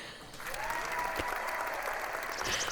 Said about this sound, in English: What can I do but give you a round of applause for that perfect description?